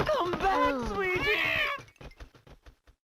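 A cat meows with a rising, drawn-out cry in the Professor Layton and the Curious Village video game, mixed with voices and followed by a short run of soft clicks as it fades.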